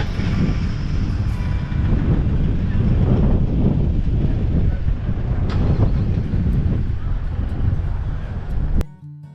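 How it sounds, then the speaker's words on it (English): Strong wind buffets the microphone in a continuous, loud low rumble with gusting swells, close and unbroken until it cuts off abruptly near the end. "Of course, the wind, the wind kept blowing for us."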